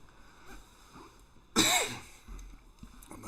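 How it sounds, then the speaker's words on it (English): A single sharp cough bursts out close to the microphone during a night street protest in Portland, standing out loudly over a low murmur of background noise. "My apologies for the cough."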